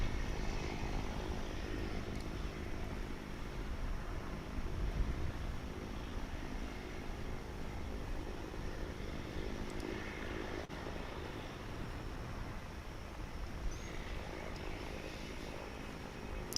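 Airplane at DFW International Airport, a 2006-built jet: a steady, broad engine roar from some distance that holds evenly throughout, with no voices.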